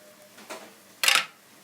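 Spices being stirred and fried in a pot, heard as a soft scrape followed by a brief, brighter burst of sizzling and clatter, close and fairly faint with quiet gaps around it.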